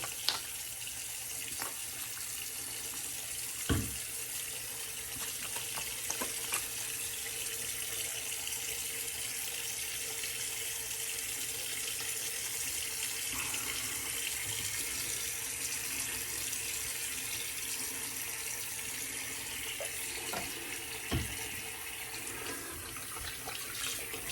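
Tap left running into a sink to rinse out straight-razor shaving gear, a steady close hiss of flowing water throughout with a couple of brief clunks and splashes, no talking.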